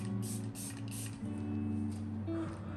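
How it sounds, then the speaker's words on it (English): Makeup setting spray misted toward the face, several short airy hissing bursts in quick succession over soft background music. "spray a generous amount until you feel like you spray enough."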